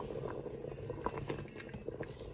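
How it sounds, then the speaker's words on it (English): Two cups of hot water are poured into a pot of thick homemade soup, making a faint, steady liquid pour with soft bubbling and splashing and no voices. "I'm adding 2 cups of hot water to this to help thin it out."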